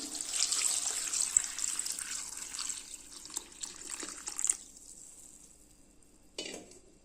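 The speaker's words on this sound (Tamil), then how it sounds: "நாலு கிளாஸ் தண்ணி ஊற்றிக்கிறேன்" Water poured from glasses into a pot of chopped carrot, beans, broad beans, tomato and brinjal for sambar: a soft, continuous splashing pour for several seconds, then quiet, then one brief final splash.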